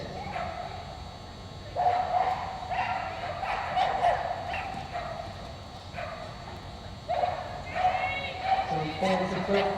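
A border collie barks in short bursts at an agility competition, sharp yips rising over the crowd noise in several spaced clusters while a commentator talks throughout.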